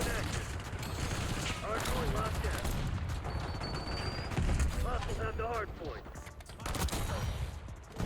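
Rapid bursts of gunfire from the video game Call of Duty: Black Ops, FFAR 1 rifle and hand cannon, crackle continuously over a dense, noisy mix with game-like effects; no speech stands out.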